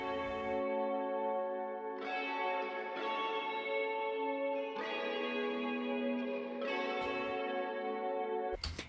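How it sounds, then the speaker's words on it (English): Sustained, elongated guitar chords drenched in heavy reverb for an atmospheric layer in a home shed music production, swelling in long washes that change roughly every two seconds, loud and alone with no talk. "You basically just playing the same chords, but elongated and with a lot of reverb to add just like an atmospheric element to the song."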